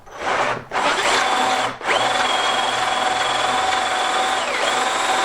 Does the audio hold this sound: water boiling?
no